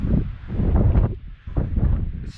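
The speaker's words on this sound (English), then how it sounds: "Definitely windy." Gusty wind buffets the microphone on a winter mountain summit ridge, a loud, continuous low roar that surges and eases in uneven waves.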